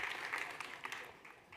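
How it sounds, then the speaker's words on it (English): Audience applause for a company's 20th anniversary at a demo day event, a short burst of fairly faint, steady clapping with a few louder peaks, heard at a distance. "We wish them a round of applause is due."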